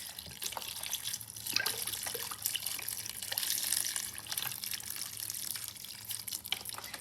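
Broth pours freely from a twisted-open carton into a soup pot of kale soup, a continuous close splashing and gurgling liquid stream at moderate volume.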